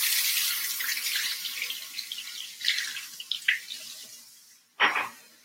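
Tap water runs over flat leaf parsley as it is rinsed in a kitchen, a steady close hiss with uneven splashy surges and a sharp louder gush near the end.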